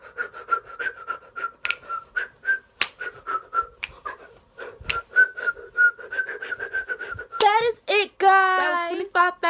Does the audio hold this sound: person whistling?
yes